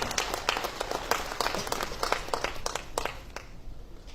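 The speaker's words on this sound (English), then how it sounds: "big applause to your parents, your teachers, and this great institution." An audience bursts into applause at a formal address to young graduates, with crisp, closely spaced claps that fade away toward the end.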